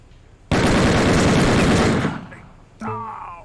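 A loud, sudden blast of gunfire erupts in the 1920s crime strategy game Empire of Sin, roaring for over a second before fading, then a voice speaks briefly.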